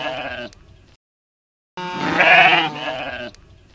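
A sheep bleating loudly and close, two wavering bleats separated by a short silence, the second longer and stronger.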